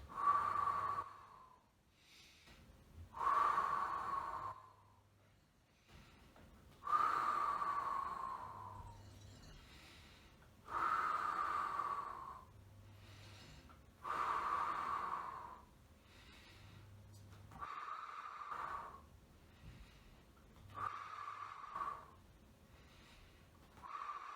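Deep, audible breaths come in a slow regular rhythm during Pilates exercises, about seven long inhale-exhale cycles, each a soft rushing swell close to the microphone, with faint whistly airflow.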